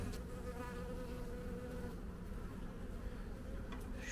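Steady, dense buzzing of many honeybees close by at a hive in spring, a continuous droning hum with no pauses and no voices.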